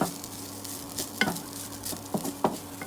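Leftover rice being stirred and tossed in a hot pan for fried rice, a steady sizzle broken by a few scraping stir strokes, close and alone without talk.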